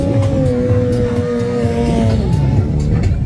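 Drag-racing motorcycles roar loudly and close at a desert rally, with sustained high-pitched engine whine and a wavering rev as a rear wheel spins.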